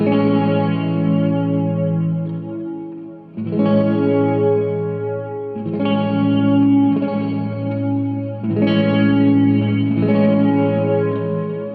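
Guitar chords played through a TC Electronic Hall of Fame 2 reverb pedal on its modulated reverb setting, four strums, each ringing out with a warm, wavering wash for about three seconds.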